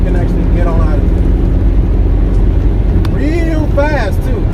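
A Ford Mustang with over 200,000 miles revs and accelerates hard, a loud, steady engine roar heard from inside the car, with someone talking over it near the end.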